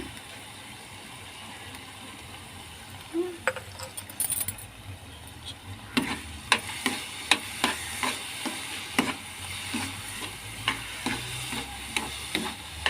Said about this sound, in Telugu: కలుపుతూనే ఉండాలండి లేకుంటే కొంచెం మాడి పడుతుంది